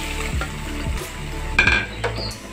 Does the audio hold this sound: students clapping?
no